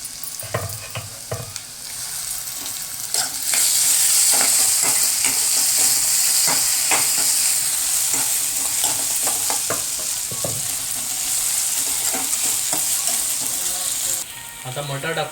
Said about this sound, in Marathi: तर आता टोमॅटो टाकूया आपण.